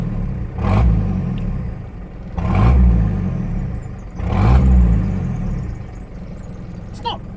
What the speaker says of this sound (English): That's where the exhaust is, and have a quick little listen to this.